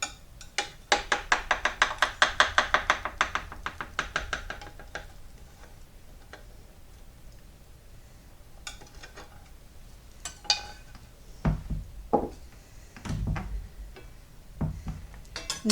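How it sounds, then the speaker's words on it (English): A Cutco steak knife saws through cake on a dinner plate with a quick series of rhythmic ticking scrapes, followed by sparser clinks and taps of the blade against the plate, close and fairly quiet. "Just taking my dinner plate up to the Cutco knife again, cutting it with my steak knife"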